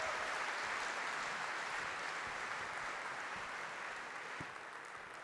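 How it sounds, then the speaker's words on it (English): A conference audience applauds speaker Kevlin Henney at Craft Conference 2022, a steady, dense wash of clapping that holds evenly throughout and tapers only slightly at the end. "Big, genuine round of applause for Kevlin Henney"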